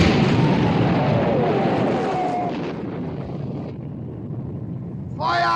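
Naval guns of a WWII battleship fire a salvo in a 1960 film, loud booming blasts with a long rumbling roll and wind-like roar that fades, followed by a sharp new burst near the end.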